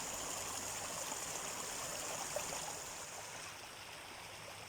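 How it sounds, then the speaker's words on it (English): Clear water flows at a natural spring in cold woodland, a constant soft rushing babble heard alone, easing slightly in the last seconds. "Just thought I'd show you a bit of this beautiful water."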